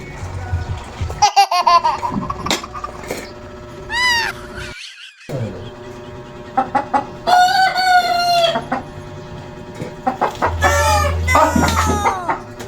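Chickens cluck and squawk in bursts, with a rooster crowing and some laughter mixed in.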